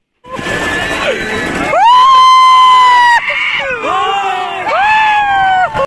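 Riders on a fairground ride at a mela scream and shout together, loud and close, in long rising and falling shrieks over a steady rumble.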